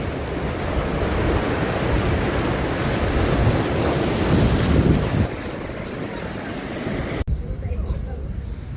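Ocean surf rolls onto the shore at Aromahan Beach, a loud, continuous wash buffeted by heavy wind noise, with voices talking over it before the sound abruptly drops away near the end.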